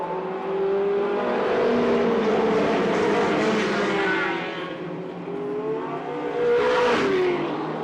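Race cars running side by side on a circuit during the first lap, their engines roaring loudly at high revs with a rising and falling pitch as they pass close, plus a brief second swell near the end.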